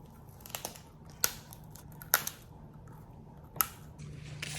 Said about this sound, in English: Look at this fat, crunchy, crispy beef chip.